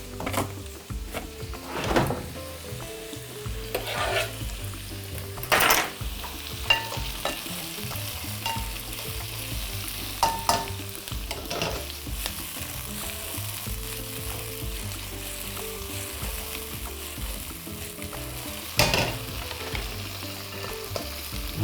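Partly dried chili pieces dropped into a hot pan, a low steady sizzle with scattered sharp knocks and clatters of kitchen handling, no voices heard.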